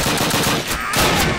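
Rapid machine-gun fire sprays from a submachine gun in the Call of Duty 1 video game, with loud, dense bursts that dip briefly midway before resuming.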